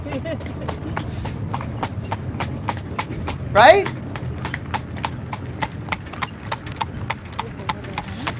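Horse pulling a well-maintained cart, its hooves clip-clopping in a steady, even rhythm on a hard surface, with people talking over the hoofbeats.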